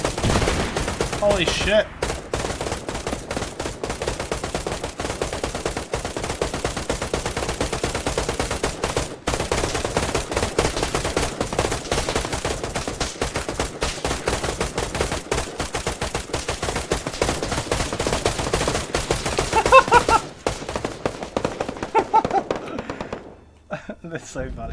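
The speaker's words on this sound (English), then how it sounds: "Using that full auto fire is like really hilarious." Full-auto machine gun fire in the ARMA 3 military game rattles as a dense, sustained stream of rapid shots across most of the clip, with a voice talking over it and a brief pause near the end.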